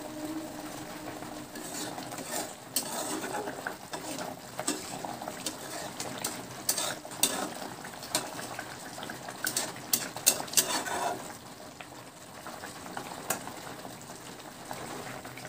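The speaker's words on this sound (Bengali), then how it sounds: "এখন আমি তরকারিটা বেশ কিছুক্ষণ ফুটিয়ে নেব।" Fish curry with ridge gourd boiling steadily on a gas stove, a continuous bubbling and simmering wash with small irregular pops, fairly close and moderate, quieting briefly near the end.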